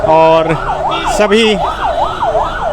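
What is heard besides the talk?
sirens of vehicles leaving a government house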